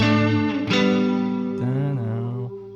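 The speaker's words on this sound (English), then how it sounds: "all I'm doing is playing double stops with the pentatonics again." Electric guitar playing sustained double stops on the pentatonic scale as rhythm playing, with a slight effected, chorused shimmer, a few bends and slides between pairs of notes, clear and alone.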